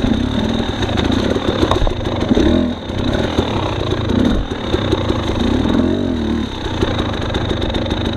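Husqvarna TX300 dirt bike engine buzzing steadily while riding through snow and mud, loud and close, with rises and dips in revs over constant wind noise.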